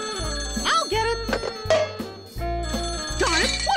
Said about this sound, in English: Darn it, what's the matter with this phone?